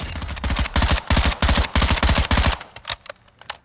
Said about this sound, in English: That's just me burst firing as fast as you can.